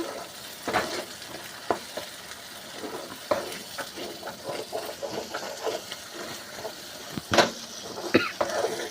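Thuvaiyal chutney fries in oil while it is stirred, giving a steady sizzle broken by repeated sharp scrapes and knocks of the spoon against the pan.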